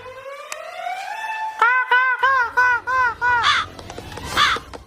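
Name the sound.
crow cawing while circling head, Free Fire video game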